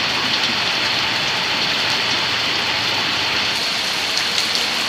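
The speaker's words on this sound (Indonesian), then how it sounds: "emang hujan" Steady, dense rain falling outdoors, a constant broadband hiss of drops on surfaces, loud and unbroken throughout with no voices.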